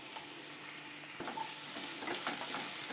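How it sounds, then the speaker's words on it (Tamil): Grated cabbage and carrot with capsicum sautéed in a pan for vegetable noodles, a soft sizzle broken by a few stirring scrapes, close and moderately quiet. "இப்போ இந்த எல்லா காயும் சேர்த்து நம்ம ரொம்பவும் வதக்கூடாது, ரொம்பவும் வதங்கிடாமல் பார்த்துக்கணும்."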